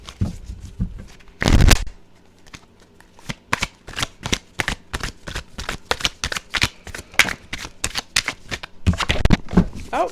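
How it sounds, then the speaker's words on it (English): A deck of tarot cards is shuffled by hand: a loud riffle burst at the start, then a long run of quick, close, crisp card flicks and slaps, ending in another dense riffle. "One last shuffle is needed here with this deck."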